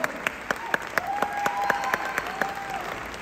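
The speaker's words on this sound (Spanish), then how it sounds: "¡Aplauso!" Applause for theatre performers at a musical's 200th show celebration, a loose patter of distinct claps near the listener, with faint tonal background sounds running beneath.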